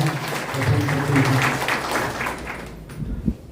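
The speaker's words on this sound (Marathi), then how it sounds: "एकदा जोरदार टाळ्या उमटवल्या" Audience applause at a political party induction event, a dense wash of many hands clapping steadily for a few seconds before tapering off, with a couple of louder claps near the end.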